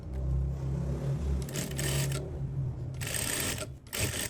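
A sewing machine runs along the seam of a tailored skirt, its steady low motor hum broken by short pauses and bursts of brighter mechanical whirring, close and alone without any talk.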